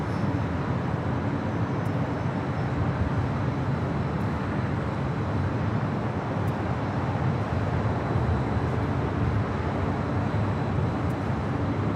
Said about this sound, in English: It's an A321 Neo. This Queen makes its way to 24 left.